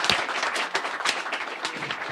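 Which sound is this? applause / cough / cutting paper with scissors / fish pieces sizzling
applause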